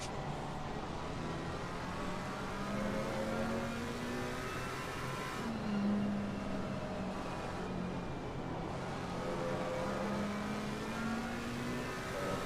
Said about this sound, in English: that Porsche is just a rocket out of that last corner